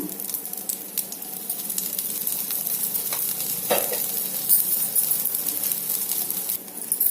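Breakfast food sizzles in ghee in a pan, a dense, even crackling hiss held close throughout with occasional brief stirring scrapes.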